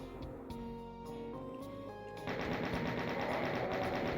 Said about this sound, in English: the chain gunners have this distinct sounds, and they sound really dangerous